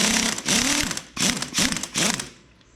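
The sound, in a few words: wrench and socket ratcheting to break bolts loose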